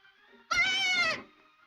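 A young goat kid gives a single loud, wavering bleat lasting under a second, standing out against a quiet background.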